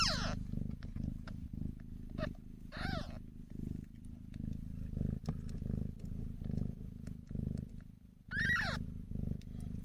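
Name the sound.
kittens purring up close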